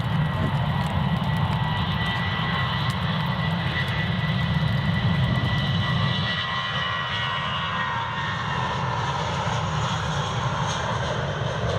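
A British Airways jet airliner passes at Edinburgh Airport, a loud sustained engine roar that holds steady for the first half and then eases slightly as it moves on, with no talk over it.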